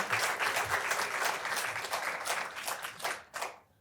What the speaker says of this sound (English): I think we need to give her a really big round of applause.